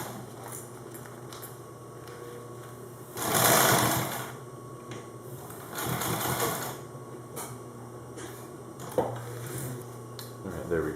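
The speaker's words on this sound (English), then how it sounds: "So just this top portion here we're going to have to fold over and sew it." A sewing machine stitches fabric for a dangler pouch, its fast mechanical chatter running in two short bursts of several seconds each, surrounded by quieter rustling and handling sounds at close range.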